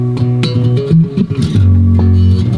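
Bass guitar played through its deep, warm neck pickup. A run of low, round notes moves through a short riff and ends on a long sustained note, loud and close with no talking.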